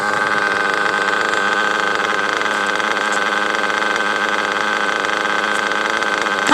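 A single-stage model engine idles steadily on its own, a dense buzzing drone with a fine rapid flutter that holds an even, loud level from start to finish.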